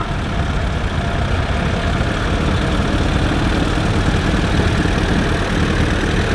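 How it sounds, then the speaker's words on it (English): A 1960 Allis Chalmers D10 tractor engine runs steadily at an antique machinery show, a loud, continuous idling rumble with no pauses throughout. "Up next we have a D10 Allis Chalmers. It's a 1960."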